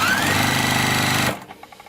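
Juki TL-2200 mini sewing machine running steadily with a fast, even mechanical whir of stitching, then stopping abruptly followed by a few small clicks.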